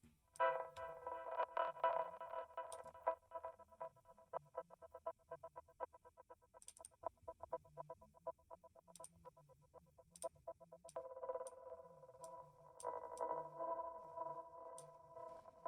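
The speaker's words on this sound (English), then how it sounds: "creating these weird textures and sounds, like just stretching it and playing with the textures" Weird stretched sample textures from a music production tool flicker in rapid glitchy ticks and pinging tones over a low rumbling bed, moderately loud and without voices.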